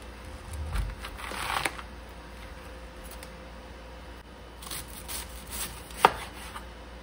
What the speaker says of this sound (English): So I'm just going to start chopping.